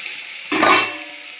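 Pumpkin pieces dropped into a pan of half-cooked frying onions set off a sudden, loud sizzling hiss that swells for a moment, then settles back into a steady, quieter frying crackle.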